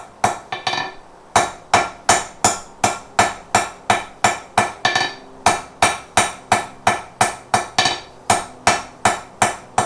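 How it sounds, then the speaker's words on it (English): A hammer strikes hot metal on an anvil during blacksmith forging, ringing blows repeated in a fast, steady rhythm, loud and close, with a brief pause early on before the hammering resumes. "This anvil ain't seen this kind of action in weeks."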